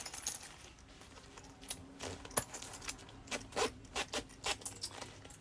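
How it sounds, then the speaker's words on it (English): Double zippers on a freshly sewn sling bag, heard as quiet, close zipping rasps and small metallic clicks in short, uneven bursts over a low room background. "But it's got double zippers."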